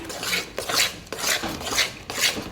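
Besan roasts in ghee in a pan for besan ladoo while a spoon stirs and scrapes it in steady rhythmic strokes, close and clear, about five sweeps with no voices.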